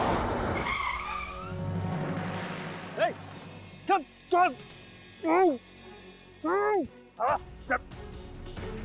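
A car screeches to a sudden halt in a TV drama scene, a brief tyre skid near the start, followed by several short bursts of other sounds.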